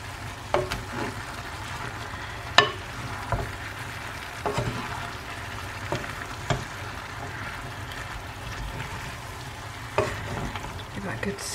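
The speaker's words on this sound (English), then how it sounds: "Give that a good stir." Cottage pie filling fries in a pan under a steady low sizzle, stirred with repeated scraping strokes and sharp utensil knocks at irregular intervals, close and without talk.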